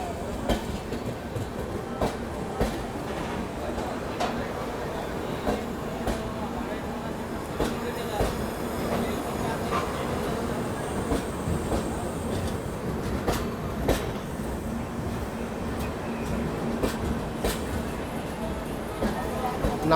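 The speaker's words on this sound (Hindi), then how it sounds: "ये ट्रेन मेन लाइन में ही आई थी, इसीलिए देखिए जैसे ही निकली हुई इसने रफ्तार पकड़ ली है" AP Express train gathering speed on the main line out of Nagpur station, a steady rumble of wheels on rail with faint clickety-clack, mixed with talk throughout.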